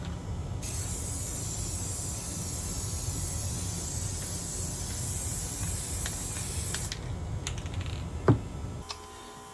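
A steady aerosol hiss of gloss clear coat sprayed onto a mask runs nearly unbroken for about seven seconds, close and fairly loud, then stops, followed by a few faint handling clicks and a sharp tap.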